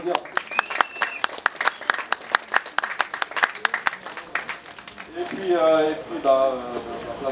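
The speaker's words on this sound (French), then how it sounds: "vous pouvez applaudir." Audience applause at the awards part of the 2019 Frigoriste Karting Challenge, sharp rhythmic claps at first that swell into a fuller crowd clapping with cheering and voices toward the end.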